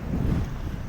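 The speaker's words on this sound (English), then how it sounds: "It's really windy." Strong wind at Kasai Rinkai Park, a seaside park, buffets the microphone with a loud, low rumbling roar through a brief moment, with no voices present.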